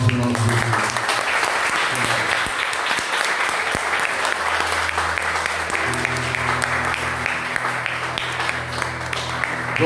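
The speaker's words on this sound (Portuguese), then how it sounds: "Dê uma linda salva de palmas em nome de Jesus." Church congregation applauding at a Sunday service, steady dense clapping sustained throughout with faint voices and low music tones underneath.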